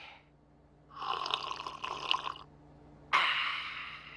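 Tea poured from a pot into a cup, a soft trickling stream that runs for about a second and a half, stops, then resumes with a brighter splash, faint and alone.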